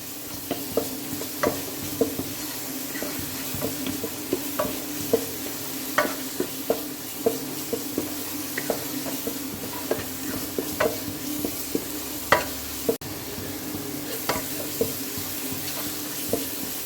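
Masala for a squid fry sizzling in a pan under a steady hiss, with scattered light scrapes and taps as it is stirred, continuous and close, with no voices.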